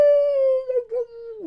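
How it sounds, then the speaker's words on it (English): A single wolf-like howl, pure and sustained, holds a steady pitch then wavers and trails off, heard close and alone. "They don't have sirens. They just howl."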